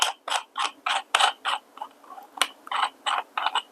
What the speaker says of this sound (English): I have to invert this, and basically I just have to unscrew.